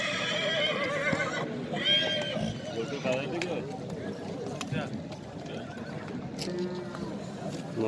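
Horses at a busy livestock bazaar whinny and neigh loudly several times, with hooves clip-clopping and a crowd murmuring throughout as people talk nearby.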